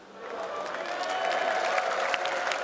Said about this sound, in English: Can we have a round of applause for Team Solomid?